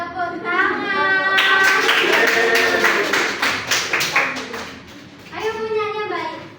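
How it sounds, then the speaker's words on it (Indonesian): Children in a classroom clapping in a quick burst of rhythmic hand claps, with children's voices talking before and after and partly over the clapping. "Tepuk tangan."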